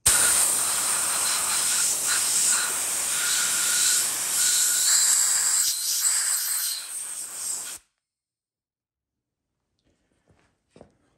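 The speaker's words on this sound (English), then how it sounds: "I'm just gonna take some compressed air and blow out these holes and the bolt and the screw" Compressed air blows dust and debris out of drilled holes for bolts and screws, a steady close hiss for nearly eight seconds, then it cuts off into near silence with a couple of faint small noises.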